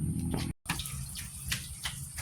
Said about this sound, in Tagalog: Sino nag-iwan na dito nakabukas ang gripo?